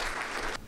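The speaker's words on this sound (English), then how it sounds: "Give applause." A room of people at a regulatory compliance training session applauds as a contestant is called up, producing a brief, loud burst of clapping that cuts off abruptly.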